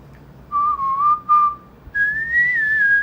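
A person whistles a K-pop song intro, clear pure tones in two short phrases: a few level notes, a brief pause, then a higher, gently rising and falling line, close and alone with no talk.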